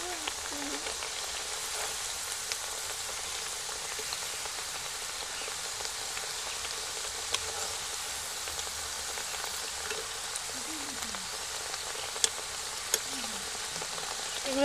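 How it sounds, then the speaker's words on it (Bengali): Nakshi pitha, a decorated Bengali rice-flour pastry, frying in oil over a medium flame, giving a steady soft hiss with faint scattered crackles throughout and no voices. "এগুলো মিডিয়াম ফ্লেমে ভাজতে হবে।"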